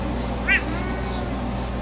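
A Birman cat gives one short, clear meow partway through, fairly close, over a steady background hum with no one talking.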